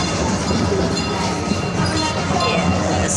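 A small ride-on train carrying passengers through an indoor shopping mall, its steady rolling rumble and wheel clatter running continuously and fairly close.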